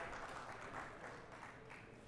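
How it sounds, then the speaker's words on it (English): A fundraiser breakfast crowd applauds a volunteer, the clapping faint and steady throughout, blending into a distant, roomy wash of sound. "give her a big round of applause"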